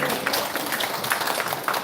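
Congregation applauding together in a church after a call to give glory to God, a steady dense wash of many hands clapping that fills the whole stretch with no pauses.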